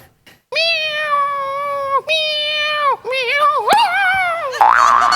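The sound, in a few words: person imitating a tomcat and cat meowing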